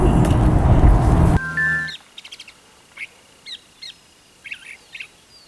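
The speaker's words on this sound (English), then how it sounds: "I'm wondering why that sweet bird is saying that" A bird calls with a series of short, sharp chirps spaced about half a second apart, clear and fairly close against near silence, following a brief burst of loud, noisy sound at the start.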